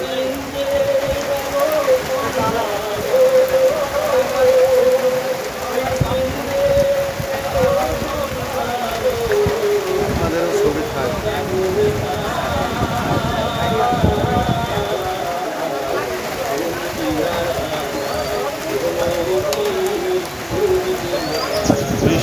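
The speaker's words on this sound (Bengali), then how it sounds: "বৃষ্টি হচ্ছে এখন" Steady rain falls outdoors near a small haor wetland in Mohanpur, Rajshahi, a continuous close hiss of drops on surfaces with wind moving through tree leaves and faint birds far off.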